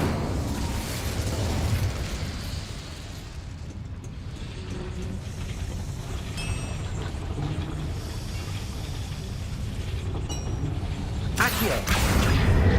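Incendio, a fire spell in the video game Hogwarts Legacy, roars as a dense, continuous blast of crackling fire with a sharper burst near the end, loud and sustained throughout.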